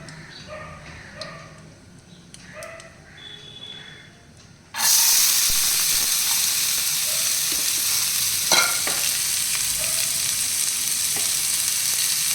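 Boiled chana dal is stirred into kundri bharta in a pan: quiet scraping at first, then a sudden loud, steady sizzle with occasional spoon scrapes continuing to the end.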